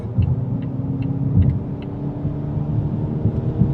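A Volvo S90 T6 Momentum sedan with its supercharged and turbocharged engine accelerating on the road to pass a truck, heard from inside as a steady low engine and road rumble, with faint ticking clicks early on.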